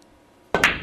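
Billiard cue tip strikes the cue ball, which then knocks into an object ball on a pool table: a sudden crisp clack after near silence, with a second sharp click right after.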